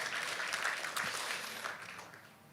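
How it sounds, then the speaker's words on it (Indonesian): A church congregation applauds during a sermon, a fairly faint wash of clapping that holds briefly and then fades away. "Kita kasih tepuk tangan berkemuliaan nama Tuhan."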